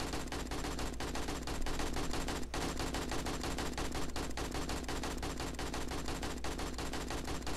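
Gunshots crackle from the survival game 7 Days to Die, a steady dense stream of sharp reports sitting under a constant loud background wash, continuous and fairly distant-sounding throughout.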